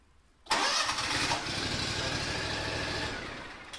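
The engine of a Toro Sand Pro 2040Z bunker machine cranks and catches abruptly, then settles into a steady, close running idle that slowly fades.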